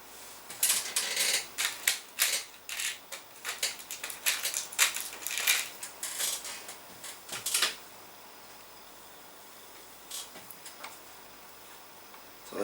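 Small tapping screws being driven into a plastic tray on a Tamiya Grand Hauler RC semi truck, giving dense bursts of close, crisp ticking and clicking for about eight seconds, then quiet with a couple of faint taps.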